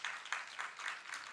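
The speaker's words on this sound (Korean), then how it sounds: "우리 같이 박수로 또 환영하십시다" A church congregation applauds in welcome during a Sunday worship service, with steady, moderately loud clapping from many hands that runs through the whole brief stretch with small swells.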